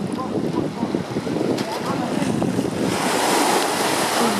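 Sea waves and surf at the Similan Islands, a continuous close wash of breaking water mixed with wind buffeting the microphone, filling the whole stretch without pause.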